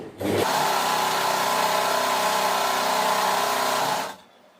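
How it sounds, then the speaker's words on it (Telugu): Electric sewing machine running steadily for about four seconds as it stitches a seam in nightsuit fabric, a close, continuous mechanical whir that starts and stops abruptly. "ఇలా రెండు జాయిన్ చేసి ఎక్కడైతే మార్క్ చేసుకున్నామో అక్కడ వరకు ఒక స్టిచ్ వేసేసుకుందామండి."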